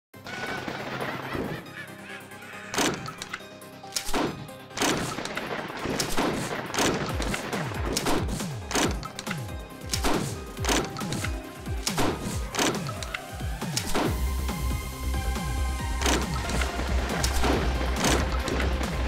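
Rapid shotgun blasts in the game Shotgun Witch, a relentless string of sharp, punchy shots fired again and again for many seconds, with chirping, honking game effects scattered among them and a steady low hum building near the end.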